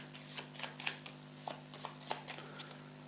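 Playing cards are shuffled close by, a quick series of crisp riffling flutters and soft taps in an otherwise quiet room.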